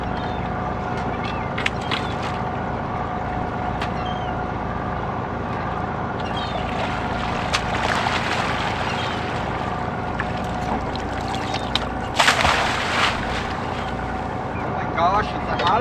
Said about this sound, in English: You can probably hear when I put it in gear, engine changes pitch a little bit.